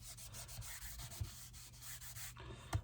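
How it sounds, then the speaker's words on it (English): Anti-static bag rubbed over card stock before heat embossing for a Christmas card: soft, quiet brushing and rubbing strokes close by, with a couple of faint taps. "I've got my anti-static bag, and I'm just going to give this a thoroughly good coating"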